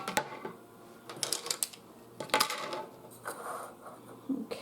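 Dirty dishes are stacked in a home kitchen while banana cookies are being baked, giving sharp clinks and clatters of crockery and utensils in irregular bursts, close by.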